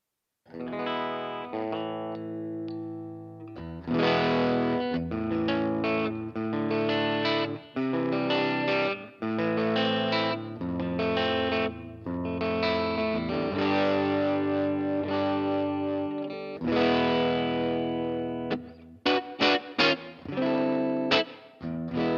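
Electric guitar through a traditional-style neck humbucker pickup with a warm, bass-heavy tone and some grit, strummed chords and picked phrases ringing out for about twenty seconds, with brief pauses, no talking.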